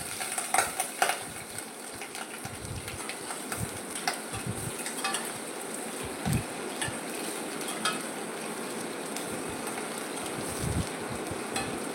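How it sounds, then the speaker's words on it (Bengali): Pieces of pointed gourd fry in oil in a covered wok, giving a continuous soft sizzle with scattered clicks and clinks of a utensil against the pan. "এখানে পটলগুলো আমি ভেজে নিচ্ছি, এর সাথে আমি আলুও দিব।"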